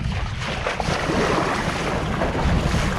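Wind blowing over a mountain onto a boat out on open water: a steady, full roar of gusting wind buffeting the microphone, with water noise beneath, continuous and loud throughout.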